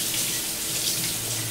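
A powerful kitchen faucet runs into an undivided sink while dishes are washed, producing a steady, loud, close rush of splashing water with no talking.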